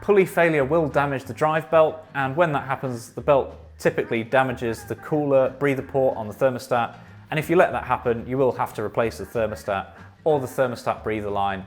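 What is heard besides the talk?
None of the usual background noises is heard.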